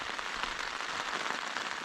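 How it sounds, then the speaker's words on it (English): Steady rain patters on a tent during a wildcamp on a Lake District fell summit, a dense even hiss of drops close by with no voices. "This is due to rain itself out sometime in the early hours"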